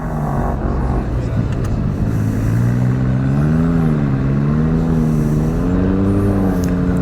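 Off-road race vehicle at King of the Hammers, an engine droning and wavering in pitch as it travels along a desert trail, steady and continuous throughout.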